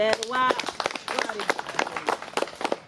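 An audience at an adolescent health policy event in Tororo claps in a brief, uneven round of close hand claps, with voices heard at the start and over the clapping.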